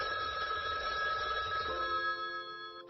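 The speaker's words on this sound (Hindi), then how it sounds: "जब टेलीफोन की घंटी बजी" An old-fashioned telephone bell rings continuously with a bright metallic trill, fairly faint, then the ringing shifts and cuts near the end.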